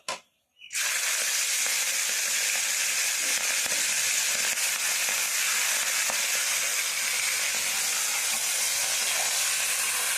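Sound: fish frying in hot oil

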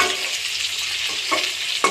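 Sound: capsicum frying in pure mustard oil

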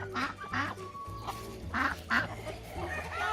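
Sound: ducklings quacking

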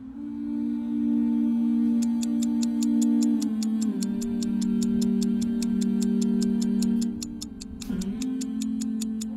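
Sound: clock ticking at night

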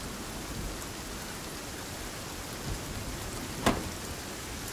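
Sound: torrential rain in video game Sons of the Forest

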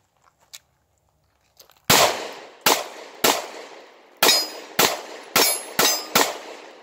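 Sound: live-fire gunshots, shooting practice left-handed

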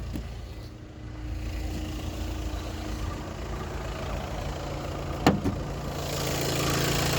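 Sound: car engine idling quietly

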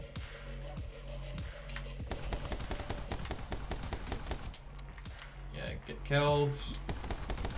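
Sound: gunfire from the video game My Friend Pedro

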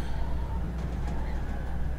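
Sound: owl call in video game Life Is Strange

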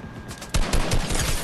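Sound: gunfire in the video game Fortnite

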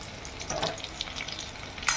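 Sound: frying pointed gourd slices

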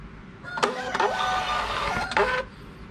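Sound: Bluetooth thermal printer printing a shipping label

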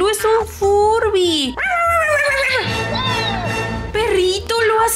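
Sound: dog barking and whimpering in a video game

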